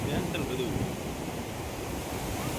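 Sea waves wash ashore at Tithal beach in Gujarat, a steady, moderately loud roar of surf blended with wind buffeting the microphone; a faint voice comes and goes near the start.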